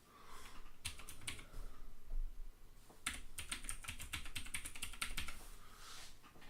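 Computer keyboard keys tapped in two quick bursts of typing, close and crisp, with a short pause between groups of keystrokes and no talking.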